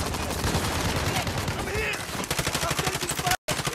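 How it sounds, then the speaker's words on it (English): Rapid gunfire bursts crackle in the Warzone battle royale video game, dense and loud, with a brief dropout near the end and speech mixed underneath. "I'm getting shot."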